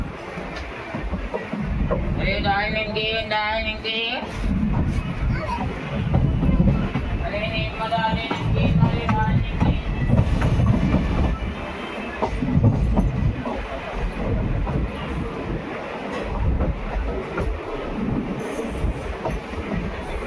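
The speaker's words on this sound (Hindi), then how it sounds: "तो 2 मिनट रुकने के बाद ट्रेन डिपार्चर हो रही है नापासर रेलवे स्टेशन से" The 22471 Bikaner–Delhi Sarai Rohilla SF Express pulling out of Napasar railway station, a sustained rumble and clatter with two tonal, horn-like wails early on.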